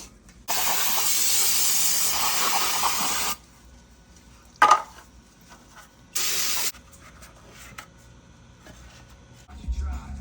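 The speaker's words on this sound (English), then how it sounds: "With some brake cleaner, get all the plastic out of it." Brake cleaner sprayed onto a motorcycle oil pickup in a garage: a long aerosol hiss followed by a short burst and another brief spray, separated by quiet pauses and small handling clicks.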